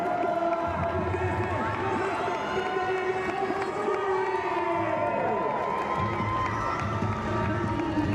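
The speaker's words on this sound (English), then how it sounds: "See the crowd getting pumped up for Dave" A large outdoor crowd at a Red Bull Cliff Diving event in Boston cheers and shouts continuously for a diver, a dense roar with whistles and high voices, alongside a wailing tonal sound, steady throughout.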